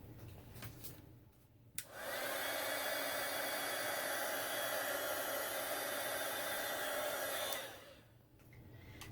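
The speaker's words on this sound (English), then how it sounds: "you can dry it with your heat tool" A crafting heat tool blows hot air to dry a stamping mask, switching on with a click into a loud, steady, close hiss-and-whir that holds for several seconds before it winds down and stops.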